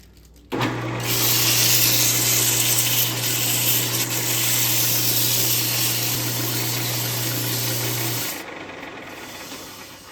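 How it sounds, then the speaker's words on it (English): 150-grit sandpaper rasps steadily against a segmented wooden bowl spinning on a lathe for about eight seconds over a constant motor hum, then stops abruptly. "And I'm going to get busy sanding it."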